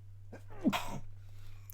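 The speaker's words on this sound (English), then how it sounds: "Oh, I'm gonna sneeze." A single close human sneeze, short and sharp, over a steady low electrical hum.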